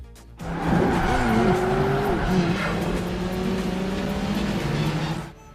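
Racing car in an Xbox racing game power-sliding, its engine droning steadily with wavering tire squeal over several seconds, loud and close, no talk.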